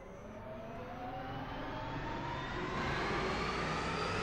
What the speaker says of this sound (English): Probably one of the biggest helicopters you can have.